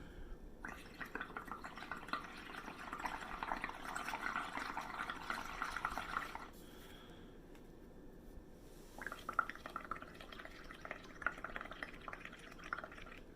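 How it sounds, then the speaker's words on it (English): Blowing through a straw into a bowl of water makes a steady, soft bubbling gurgle that runs for several seconds, stops briefly, then starts again, quiet and close with no talking. "you can take your straw and you can blow directly into the water to make large bubbles appear in the bowl"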